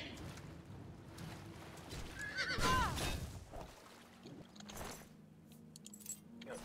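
A brief horse whinny in the video game Oblivion, a wavering, rising-falling call over a steady background hum, followed by some faint clattering.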